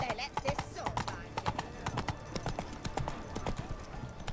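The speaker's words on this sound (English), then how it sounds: "Run, Roach" Horse hooves from The Witcher 3: Wild Hunt video game, a steady, close clip-clop galloping rhythm mixed with game voices and background sound.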